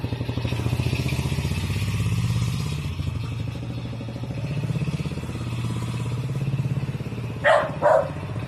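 A dog barks twice in quick succession near the end, close by, over a continuous idling motorcycle engine drone.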